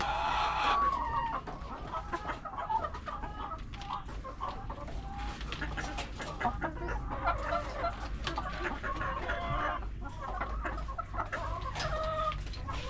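Backyard flock of egg-laying chickens clucking steadily with a rooster crowing now and then, moderately close, a continuous busy farmyard chatter with no voices.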